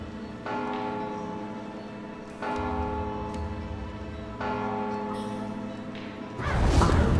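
A deep church-style bell in the stealth video game Mark of the Ninja tolls three times at steady intervals, each strike ringing out with long sustained overtones, followed by a sudden loud crash.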